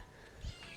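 A cat in a workshop gives a single short meow close by, sounding over faint background noise.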